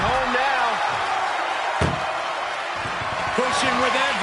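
A single hard slam of an ambulance door strikes sharply in a wrestling video game, a brief loud crack standing out against continuous crowd roar and commentary talk throughout.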